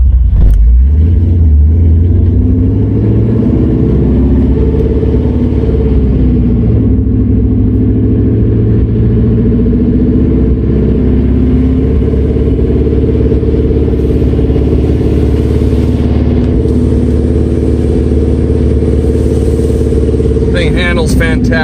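A supercharged 2012 Ford Mustang GT convertible with the top down drives and accelerates, its loud engine droning and rising steadily close by with a constant rumble throughout.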